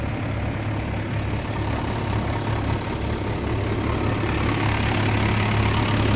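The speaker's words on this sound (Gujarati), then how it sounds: "આ આપણો ટ્રેક્ટર है." A Mahindra tractor engine idles close by on a farm, giving a loud, steady low rumble with an even chugging pulse throughout.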